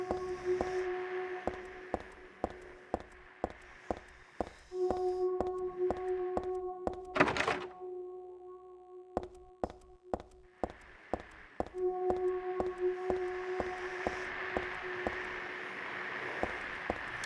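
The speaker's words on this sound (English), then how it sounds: "I definitely hear a monster." Monster noises from the PS2 game Silent Hill 3: a steady pulse of hollow thuds and taps over droning tones, with a sharp loud burst midway and a short pause before the rhythm returns, with no talking.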